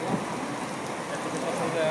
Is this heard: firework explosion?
no